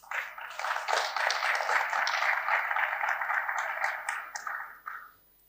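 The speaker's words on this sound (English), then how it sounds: "Please, can we applaud them?" A conference audience applauds: dense, even clapping for about five seconds, then quickly tapering off to silence.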